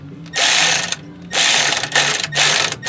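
A ratchet wrench tightens a belt tensioner bolt on a 1976 GMC motorhome, with four close bursts of rapid clicking separated by short pauses.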